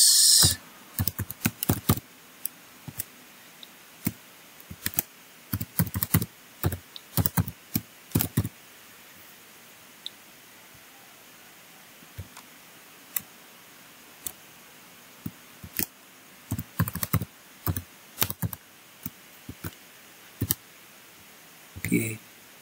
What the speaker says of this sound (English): we just type another password